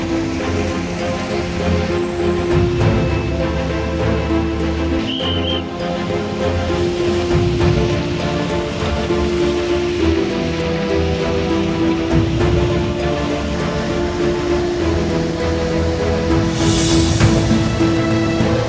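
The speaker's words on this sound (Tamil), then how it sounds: "ஜம்மு காஷ்மீரில் நீடிக்கும் கனமழையால் ஆங்காங்கே காட்டாற்று வெள்ளம் கரைபுரண்டு ஓடுகிறது" Heavy monsoon rain and a flash flood torrent in Jammu and Kashmir, a dense, continuous rushing wash of water that stays loud and even throughout.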